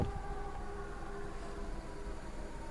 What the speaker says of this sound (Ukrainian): Аж ззаду, да, чути звуки сирен.